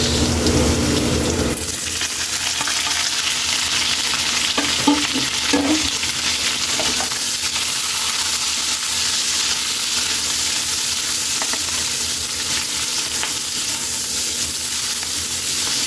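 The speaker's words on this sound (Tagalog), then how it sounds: "Mabango na kaili at ilagay na natin yung sibuyas" Chopped white onion sizzles in hot oil in a pan for adobong sitaw, a steady loud frying hiss throughout with occasional stirring scrapes and clicks, no voices.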